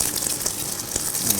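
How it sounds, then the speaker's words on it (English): Food sizzles in a frying pan during a chef's cooking demonstration, a continuous dense crackling hiss with small pops, heard alone without talk. "I love that sizzle."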